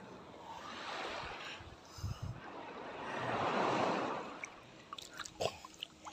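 Sea waves wash onto a beach on a calm day, a broad steady rush of surf that swells to a louder peak midway, with a few light knocks and splashes near the end and no talking.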